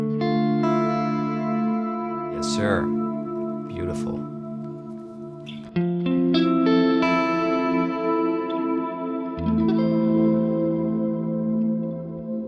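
Electric guitar played through a reverb pedal set around two o'clock, sustained chords and notes ringing out with a washy tail, loud and close, with a brief spoken voice over the playing.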